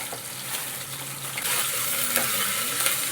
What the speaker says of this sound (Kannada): ಇದು ಜರ ಫ್ರೈ ಆಗಬೇಕು ಈರುಳ್ಳಿ ಗೋಲ್ಡನ್ ಕಲರ್ ಬಂತಂದರೆ